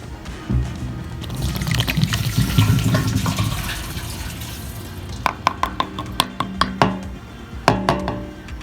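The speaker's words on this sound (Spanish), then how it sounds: "ya tiene el agua y ahora vamos a echárselo ahí al tanque" Water poured into a Volkswagen fuel tank that was repaired with tin solder, filling it to check for leaks: a steady splashing pour, then a run of sharp knocks and clatters near the end.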